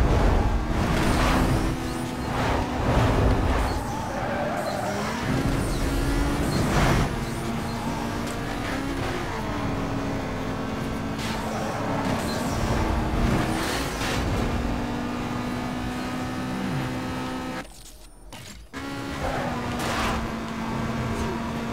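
Cars from the Need for Speed Most Wanted racing game drive and pass with steady engine drone and shifting revs, loud throughout, briefly dropping out near the end.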